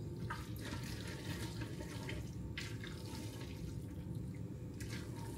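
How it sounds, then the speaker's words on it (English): Pasta water poured from a pot into a thick sauce to loosen it, a steady trickling splash of liquid running for several seconds with faint clinks in a home kitchen. "A little bit more pasta water just to thin out the sauce."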